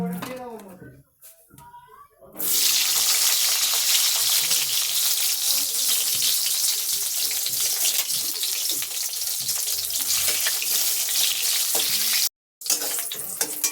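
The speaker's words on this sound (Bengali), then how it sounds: "আগে বেগুনটা ভেজে নেবো" After a brief voice, brinjal hits hot oil with a sudden loud, sustained sizzle that roars on, briefly cutting out near the end.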